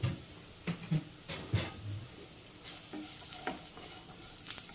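Tender jackfruit masala with ground spices being stirred in a frying pan, soft rhythmic scraping and knocks over a faint steady sizzle, with no talking.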